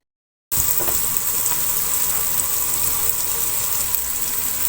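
Chicken fries in a pan for aloo chicken, giving a continuous loud, even sizzle close up that starts abruptly after a brief silence and never lets up.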